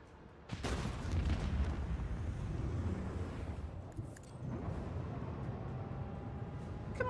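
An explosion in Warhammer 40k Rogue Trader arrives as a sudden booming burst followed by a long rumbling roar that slowly settles into a lower crackling ambience, heard at a fairly soft overall level.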